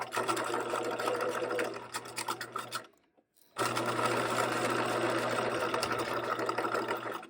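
A sewing machine runs a long seam on a pair of shorts, loud and close with a steady whirring drive, stopping for about half a second before starting again.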